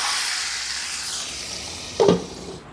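A hot tempering of garlic cloves, dried red chillies, curry leaves and asafoetida is poured into tamarind-leaf dal, with a steady close sizzle that bursts into a sharp loud hiss near the end and then fades, with no speech.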